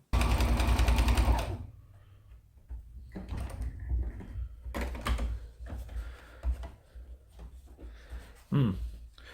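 Sewing machine stitching the satin edge of a round tablecloth, a loud rapid burst of stitching for about a second, then quieter clicks, handling noises and short mechanical bursts.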